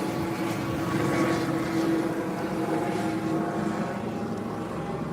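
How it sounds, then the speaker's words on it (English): A close, loud, steady rotor roar with a low droning hum from a low-flying Coast Guard helicopter passing overhead, holding constant throughout without speech. "That's a pretty low-flying Coast Guard helicopter"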